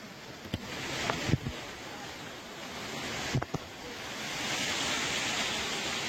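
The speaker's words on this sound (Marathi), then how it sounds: "धबधबे दिसत आहेत." Waterfalls on Brahmagiri mountain give a steady, distant broadband roar mixed with wind, broken by a few brief knocks and taps near the microphone.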